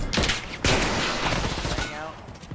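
Assault rifle gunfire in a Call of Duty 4v4 match, a dense burst of rapid shots with loud cracks, heard close and continuous over game noise with a caster's voice talking.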